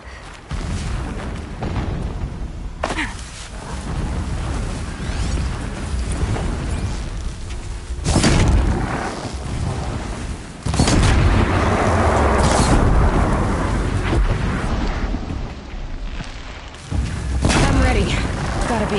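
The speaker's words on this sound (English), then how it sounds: "Explosions in the distance." Distant explosions rumble from the Horizon Zero Dawn game world, several deep booms swelling at intervals over a continuous low ambient bed, with no talk.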